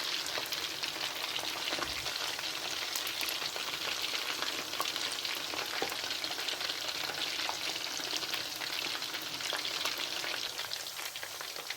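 Chicken pakoras fry in hot oil with a dense, steady bubbling sizzle and fine crackles, close and continuous throughout with no talking.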